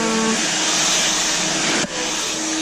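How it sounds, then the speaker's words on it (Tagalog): A hair blow dryer runs on highlighted, freshly colored hair, a loud steady whooshing roar that fills the whole stretch with only a brief dip in airflow near the end. "Kunting blower lang guys para hindi masira yung highlight"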